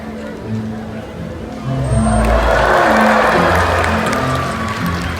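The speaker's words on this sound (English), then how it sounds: "we're going to give her a big cheer" A crowd in the stands at a Roblox orca show bursts into cheering and noisy hubbub that swells midway and keeps going, with jumbled voices over music and a low rumble from the virtual arena.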